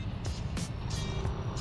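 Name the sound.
city road traffic in Valenzuela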